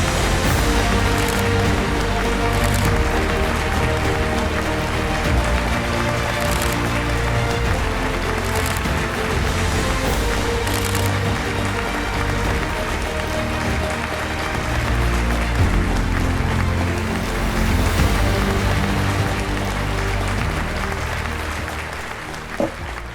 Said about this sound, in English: Ladies and gentlemen, warm round of applause for Mr.